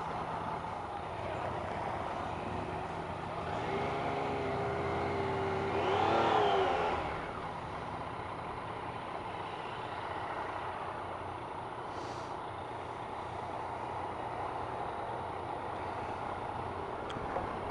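A Yamaha XSR900 motorcycle in standard mode on a demo ride at AIMExpo 2016: a steady engine drone mixed with wind and road rumble, swelling briefly louder midway as the engine revs, with no one talking.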